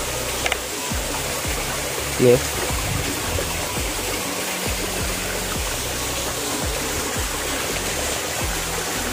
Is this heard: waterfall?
yes